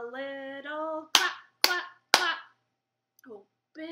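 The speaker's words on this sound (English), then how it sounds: "Give a little clap." Three sharp claps ring out in an even rhythm between sung phrases of a voice.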